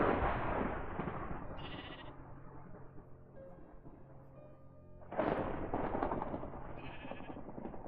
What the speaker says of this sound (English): There's some good sheep.